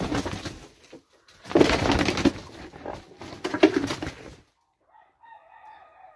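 A game rooster on a spring farm gives loud, harsh calls across the first four seconds, followed by quieter, fainter bird sounds.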